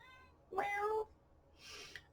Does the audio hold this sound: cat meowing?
yes